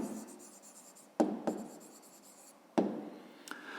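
Close pen strokes scratching across paper while an answer is written, soft continuous scribbling punctuated by a few sharper contacts of the tip, quiet and without speech.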